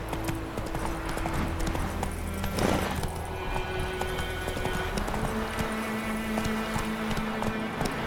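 Roach, the horse in The Witcher 3 video game, gallops with a fast, steady clip-clop of hooves, loud and close against a low ambient game background.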